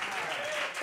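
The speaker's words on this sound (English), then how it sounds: "another big round of applause for Russell Height, Elias Haslanger, Andre Hayward, Daniel Dufour, James Suter," Applause at a live jazz gig in a club, brief and moderately distant, with a voice speaking over the clapping.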